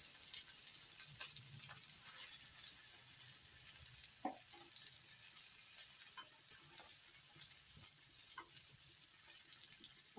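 Bangda mackerel frying in a pan Malvani style makes a faint, steady sizzle, with a few soft clinks and scrapes as the pieces are lifted out.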